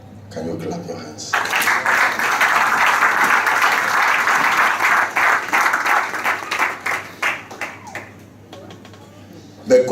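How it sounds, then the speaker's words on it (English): Congregation at a church service on marriage clapping hands together, a loud sustained burst of applause that starts abruptly, holds steady, then breaks into scattered claps, with a voice speaking over it. "Can you clap your hands?"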